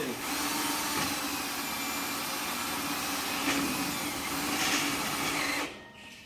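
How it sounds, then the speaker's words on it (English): A standard cordless drill runs slowly and steadily as it drives screws into the hinges of a horse stable door panel, a close, continuous whirring that stops abruptly at the end. "Use your standard drill."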